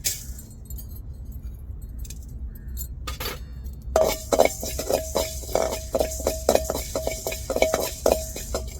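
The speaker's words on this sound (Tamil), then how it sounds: "இப்போ வெந்தயத்தை வறுத்து எடுத்துக்கிடுவோம்" Fenugreek seeds dry-roasting in a pan over low heat, stirred with a utensil: a quiet start, then a steady run of close metallic scrapes and clinks in a rhythmic stirring pattern, with no talking.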